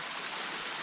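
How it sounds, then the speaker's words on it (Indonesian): Waterfall near Segara Anak lake on Mount Rinjani, a steady broadband rush of falling water filling the short moment, close and even with no voices. "di sini juga ada air terjun"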